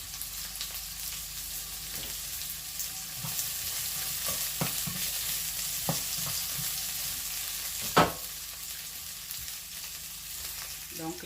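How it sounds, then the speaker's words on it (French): Onions fry in a wok with carrots and courgettes, a steady bright sizzle under occasional scraping stirs and a sharp clack of the utensil near the end, without any talk. "mes oignons ont bien eu le temps de rissoler un peu"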